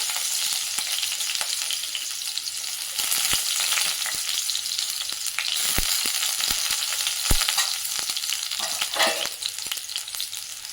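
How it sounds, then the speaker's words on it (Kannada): Ginger, garlic and onion frying in ghee for palak paneer, a steady close sizzle with occasional stirring scrapes and taps throughout. "ಇದಾದ ನಂತರ ಶುಂಠಿ, ಬೆಳ್ಳುಳ್ಳಿ, ಈರುಳ್ಳಿ ಹಾಕಿ ಫ್ರೈ ಮಾಡ್ಕೊಳ್ಳೋಣ."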